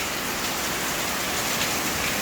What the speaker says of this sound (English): today early in the morning we have a rain, a huge rain